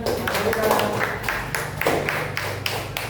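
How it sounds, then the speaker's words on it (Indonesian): Students in a vocational high school classroom clap their hands together in a quick, regular rhythm of distinct claps, with some talking mixed in. "Tepuk tangan."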